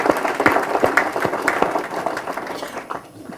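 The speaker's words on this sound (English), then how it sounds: "Let's give that a round of applause" Audience at a legislative breakfast clapping for the Vermont State Fair's long history, a short burst of individual claps close by that thins out toward the end.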